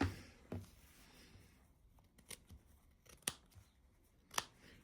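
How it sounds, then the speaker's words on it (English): Several crisp scissor snips cut through fabric and toweling around a sewn seam allowance, short sharp clips spaced out over a quiet background, with the louder cuts coming near the end. "I just clip whatever seems to be intruding on my seam allowance."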